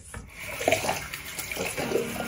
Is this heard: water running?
yes